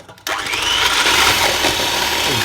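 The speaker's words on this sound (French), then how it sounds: "c'est parti avec le batteur. Et nous allons faire vraiment blanchir les œufs avec le sucre." An electric hand mixer starts up and whirs steadily while beating eggs with sugar in a bowl over a hot water bath. The motor drone is loud and continuous after a brief quiet start.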